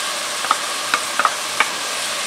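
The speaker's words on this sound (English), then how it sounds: "And now we'll add our garlic. There's about three garlic cloves minced." Minced garlic, about three cloves, sizzles in a hot pan with sweating vegetables as it is stirred, a steady low fry broken by a few soft scraping clicks of the spoon, close and moderate in level.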